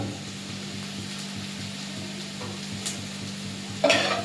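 Chopped onions frying in a pan with Maggi masala added, giving a steady soft sizzle close by with a faint stir and a brief louder scrape near the end, no voices.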